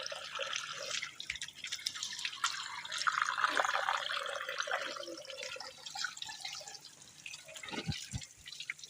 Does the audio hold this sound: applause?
no